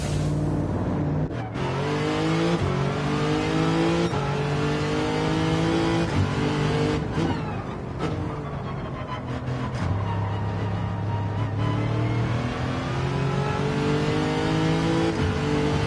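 A race car engine on the final lap of a racing video game on the Yamigawa reverse circuit, revving hard and continuously with rising and falling gear pitch, loud and close, with other cars faintly around.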